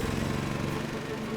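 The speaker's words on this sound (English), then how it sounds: "He tells the drill rig crew to fire up the engine." The heavy diesel engine of a tracked drill rig rumbles steadily at close range, a coarse, continuous mechanical drone without pauses.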